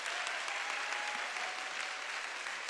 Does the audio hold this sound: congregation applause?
yes